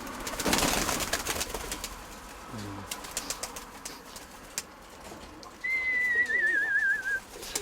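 Pigeons call near a window amid light rustling and scattered clicks, with a warbling whistle-like call standing out toward the end.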